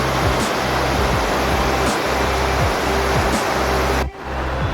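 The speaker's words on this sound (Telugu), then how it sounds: "ఇదే చేపరాయి జలపాతం, చాలా చాలా బాగుంది, సూపరు." Cheparai waterfall in Araku Valley pours as a loud, constant broadband rush of falling water, close by and alone, with a faint low engine hum beneath it that breaks off near the end.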